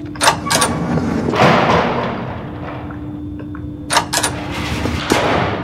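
Gunshots crack in the Garry's Mod nextbots game, several sharp bursts in two clusters with a steady hum beneath and thuds between.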